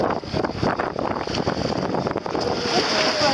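Waves lap and splash against the hull of a small sailboat, heard close under gusty wind buffeting the microphone.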